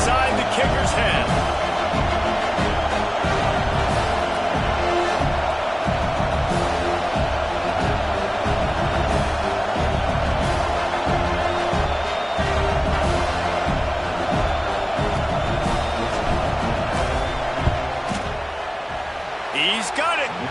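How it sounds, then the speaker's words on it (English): A stadium crowd in a football video game keeps up a loud, steady roar while the kicker lines up a field goal, with a commentator's voice running over it. "This crowd trying to do its part to get inside the kicker's head."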